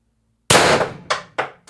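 A suppressed Pistelle X-68 HPA air gun with a .686 barrel and Reaper suppressor, running at 1100 psi, fires one sharp, loud shot followed by two quick metallic echoes or clanks, with no talking.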